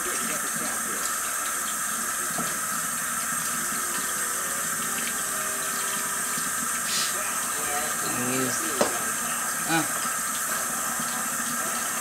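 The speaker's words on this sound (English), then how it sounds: "Water's not running clear yet." Steady running water from a tap with a constant hiss throughout, while making homemade butter, with faint clinks and soft handling noises partway through.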